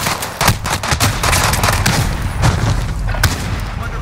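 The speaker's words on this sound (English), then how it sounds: "I'm under fire!" Video game gunfire rattles in rapid bursts of sharp, loud shots and booms. The cracks stack up irregularly over a continuous battle din for several seconds.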